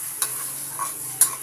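Egg frying with tomato in a pan, a soft steady sizzle with a few sharp scraping stirs of a utensil against the pan, close and fairly quiet.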